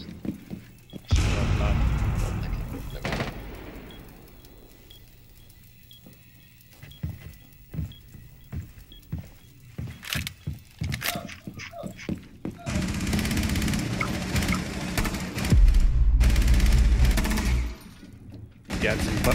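Gunfire in the Rainbow Six Siege shooter: scattered single shots and rapid bursts, some near and loud, some sparse, over long stretches with players talking intermittently.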